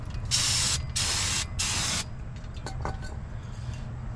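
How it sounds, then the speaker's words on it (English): Three short bursts of hissing brake cleaner aerosol spray close by during a twin disc clutch upgrade, followed by faint clicks and handling noises over a low background hum. "I'm gonna go ahead and spray this with brake cleaner too"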